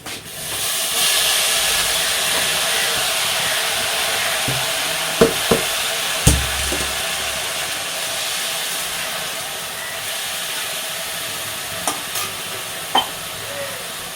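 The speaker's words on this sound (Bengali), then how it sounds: "পেঁয়াজটা রসুনটা ভাজা হয়ে গেছে, ভাজা ভাজা হয়ে গেছে, দিয়ে দেবো এবার এই শাকটা" Greens tossed into a pan of fried onion and garlic, hissing and sizzling loudly and steadily up close, with a few scattered clinks and knocks of a spatula over the continuous fry.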